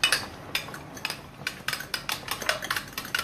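Chia seeds being stirred through a mixture, with a spoon scraping and clinking against the bowl in quick, uneven strokes, close and moderately loud with no voices.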